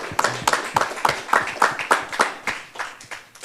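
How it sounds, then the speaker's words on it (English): Small gathering at a sermon-style talk clapping in a loose, rhythmic burst of close hand claps, roughly a dozen distinct strikes with light room noise and no speech. "Yeah, we should clap it up."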